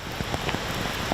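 Steady, dense rain pours down outside schools, a continuous close hiss of drops pattering on surfaces with no voices.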